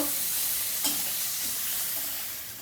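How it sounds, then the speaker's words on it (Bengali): A spice paste of ginger and garlic fries in a pan with a steady, close hiss and sizzle, broken by a single soft scrape of stirring. "আবারও আমি মশলাটাকে ভালো করে ভেজে নেব আদা রসুনের কাঁচা গন্ধটা যাওয়া পর্যন্ত"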